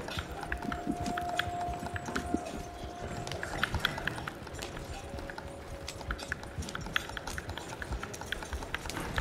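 Horse hooves clip-clop steadily as a horse-drawn wagon runs in the video game Red Dead Redemption 2, a busy rhythmic trot close by with a faint steady tone in the background.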